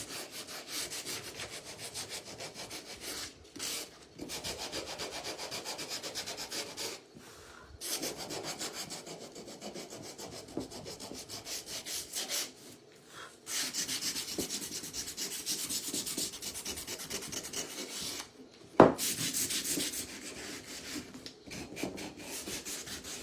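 Sandpaper rubbed by hand over a wooden Home Sweet Home table decor piece, a steady scratchy rasping in long continuous strokes, close and moderately loud, broken by a few short pauses and one sharp knock near the end.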